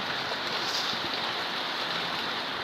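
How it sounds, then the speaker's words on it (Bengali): Steady rain falls in a continuous, even hiss outdoors, moderately loud and unbroken, with no voices. "আর দেখো কি সুন্দর বৃষ্টি হচ্ছে"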